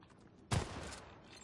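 A single gunshot burst in the video game Syndicate, an abrupt crack with a short decaying tail against a low background hum, fairly faint overall.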